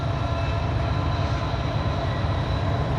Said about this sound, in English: we got another train coming right now. Looks like it's going to be an intermodal train.